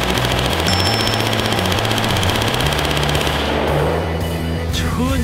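During a firearm inspection, a gun fires one long rapid burst of 53 rounds, a loud, dense, continuous rattle that cuts off near the end, leaving brief quieter noise.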